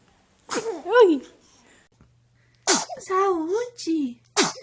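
Babies sneezing, a few short sharp sneezes heard close up, each followed by high babyish vocal sounds, with a brief quiet stretch between them.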